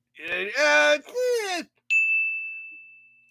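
A single bright chime sound effect rings out after someone talks on a late-night talk show, then the clear tone fades away slowly on its own.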